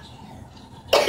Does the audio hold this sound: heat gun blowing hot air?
no